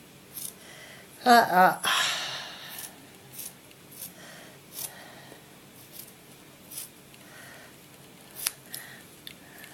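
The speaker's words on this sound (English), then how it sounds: "cut off right near the heel again" Scissors snip through a fabric sock near the heel in a short burst of close cuts, followed by faint handling rustles and soft taps; a voice speaks briefly.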